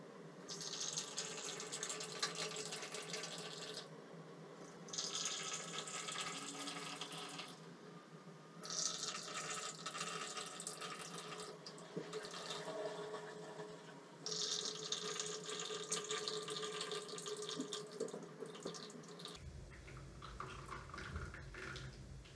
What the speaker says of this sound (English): So now I'll pour the coffee slowly.